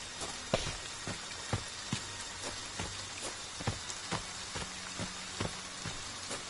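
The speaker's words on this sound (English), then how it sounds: "It's raining, guys." Steady rain in the video game Friday the 13th falls with scattered drops tapping on a surface, a constant soft hiss broken by irregular light ticks.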